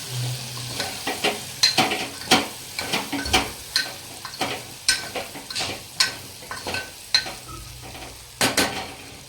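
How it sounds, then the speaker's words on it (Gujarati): A spoon stirs spice masala in a pan for a drumstick curry, making a quick series of sharp metallic clicks and scrapes at an uneven rhythm over a faint frying hiss. "આ રીતના મિક્સ કરી દઈશું બધું."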